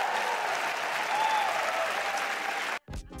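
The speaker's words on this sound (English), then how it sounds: "Cue the excited clapping" Excited crowd clapping as a sound effect, a dense, steady burst of many hands that stops abruptly near the end, followed by a brief fragment of another sound.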